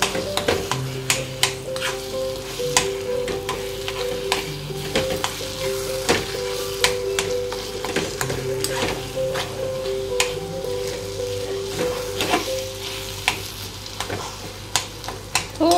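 Roasted, peeled eggplant being mixed into Khandeshi-style bharta in a hot pan, with a continuous sizzle and repeated sharp scraping and clacking strokes of the stirring utensil at an irregular pace, close and clear, with no voices.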